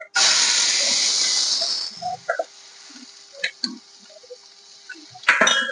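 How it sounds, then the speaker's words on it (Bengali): Onions hit hot oil with spices for tempering, bursting into a loud rushing hiss for about two seconds, then dying down to scattered pops and crackles with a louder flare at the end. "ফোড়নে পেঁয়াজ দিয়ে দিচ্ছি।"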